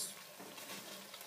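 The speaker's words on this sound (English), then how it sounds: "And then we're going to stir that, mix it all well." Jerk oxtail with butter beans is stirred in a pot, giving a soft, close scraping and sizzling swish that stays fairly quiet and continuous for a brief moment.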